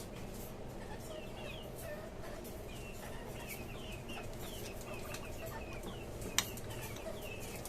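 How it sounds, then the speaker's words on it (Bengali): Native hens in a small cage on a rooftop farm cluck in soft, scattered short calls over a steady background hum, faint and somewhat distant, with one brief sharp knock near the end. "দুটা দেশি মুরগি"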